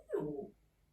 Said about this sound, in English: And that's the dog just complaining I'm not paying attention to her.